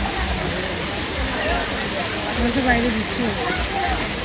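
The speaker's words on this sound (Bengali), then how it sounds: "এখান থেকে এই যে পানির যে সাউন্ডটা সেটা উপভোগ করা যায় অনেক সুন্দরভাবে।" Steady rushing of flowing water, like a small waterfall or stream, fills the whole stretch as a continuous broadband wash, with a voice faintly murmuring beneath it.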